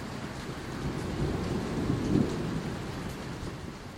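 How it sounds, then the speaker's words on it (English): Rain falls steadily outdoors while a low rumble of thunder swells through the middle and fades, all soft and even, with no talking. "It started raining"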